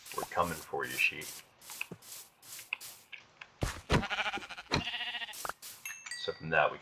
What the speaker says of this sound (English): Look at that sheep over there.